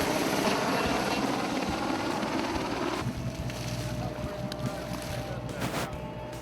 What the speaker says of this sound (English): This is my helicopter. It's coming right now.